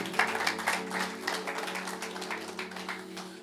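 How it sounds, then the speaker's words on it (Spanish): Congregation clapping in a Spanish-language church service after a prayer: a brief burst of applause, fairly loud at first then tapering, with a faint steady hum beneath. "Dale un aplauso fuerte."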